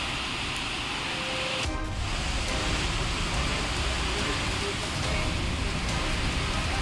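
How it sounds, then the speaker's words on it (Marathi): Heavy rain and stormy wind during a sudden storm in Maharashtra: a dense, steady, fairly faint wash of rainfall, with a brief disturbance partway through and no audible voices. "अचानक वातावरणात बदल होऊन वादळी वाऱ्यासह जोरदार पावसानं हजेरी लावली आहे"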